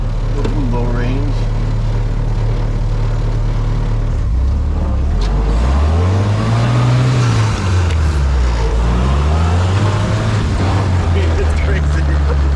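A 1947 Willys CJ2A jeep engine pulls in low range, a loud close drone that holds steady, then rises and falls as revs climb and drop, with occasional rattles over it.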